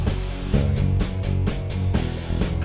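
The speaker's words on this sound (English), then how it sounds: "one of my quick, fast tricks is a little hit of cooking spray right over the top of them" Cooking spray is misted over seasoned potatoes before oven baking: close, dense hissing in a few short pulsing bursts, with no talking.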